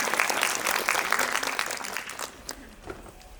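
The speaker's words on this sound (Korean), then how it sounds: "오늘 박수 부탁드립니다." Audience applause at a Korean film screening with a Q&A session, a dense burst of clapping that starts strong and gradually thins out into a few scattered claps, with no talk over it.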